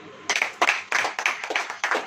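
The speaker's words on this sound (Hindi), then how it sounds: "ताली हो जाइए" A church congregation claps along in a steady rhythm, with about six bursts of several hands each, spaced evenly and close by, with no talking.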